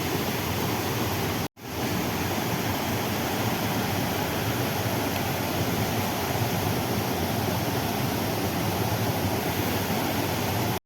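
Floodwater pours steadily into a farm field after heavy rain, a constant close rushing hiss with only a momentary break near the start and no voices.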